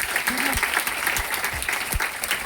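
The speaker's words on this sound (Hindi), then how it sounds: "एक जोरदार ताली होना चाहिए आपको।" An audience at a crowded indoor meeting in Patna breaks into loud, sustained applause, a dense wash of clapping that carries evenly through the whole stretch with a few sharper claps near the end.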